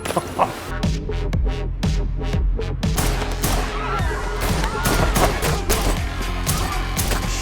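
Movie gunfire from a John Wick action scene, rapid repeated shots and bursts with clattering impacts over a dense soundtrack, loud and continuous for several seconds.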